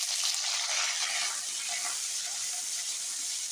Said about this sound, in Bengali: চিংড়ি মাছটা দিয়ে ওর সঙ্গেই ভেজে নেব।